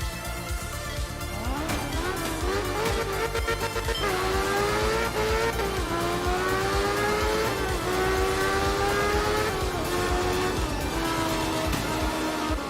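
A rally car engine in the video game art of rally revs and shifts through gears continuously, pitch climbing and dropping, with tire squeals and music mixed in.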